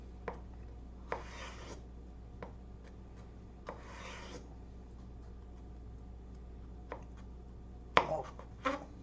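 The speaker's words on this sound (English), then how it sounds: "As I do some 1/4 inch cuts." A knife cuts steak into quarter-inch pieces, giving a handful of soft, close, evenly spaced slicing strokes and knocks on a cutting board in a quiet room.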